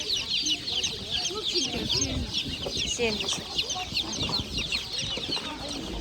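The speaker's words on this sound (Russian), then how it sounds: "Ну, я птицы вижу много вроде бы сегодня." Poultry clucking steadily at an open-air market, several birds chattering close by with bustling crowd noise and people talking over them.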